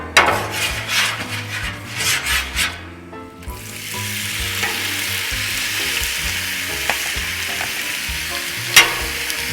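Oil and thinly shaved meat hitting a Blackstone flat-top griddle, with some scraping and stirring at first, then a steady loud sizzle that holds for several seconds, topped by a sharp scrape near the end.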